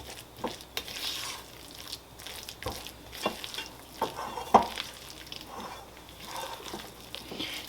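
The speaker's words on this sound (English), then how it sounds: "And then we're just going to be frying them." Apple fritters sizzle in hot oil, a soft continuous crackle broken by scattered pops, light clinks and stirring sounds, fairly quiet and close, without speech.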